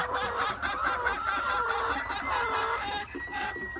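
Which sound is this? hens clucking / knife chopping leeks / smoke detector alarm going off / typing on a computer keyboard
hens clucking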